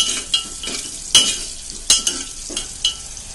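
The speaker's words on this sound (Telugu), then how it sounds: "2 వెల్లుల్లి రేకులు, ఇంగువ, ఇవన్నీ వేసుకుని బాగా కలుపుకోవాలి." Garlic slices and asafoetida stirred in a hot pan, a steady frying sizzle broken by several sharp scrapes and clinks of a spoon against the metal, close and fairly loud with no talk.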